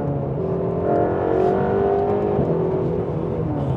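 A Porsche 911 GT2 RS or Mercedes-AMG Black Series sports car engine accelerates hard on a circuit, a loud continuous rising growl with shifting harmonic tones, heard from inside the cabin with no talking.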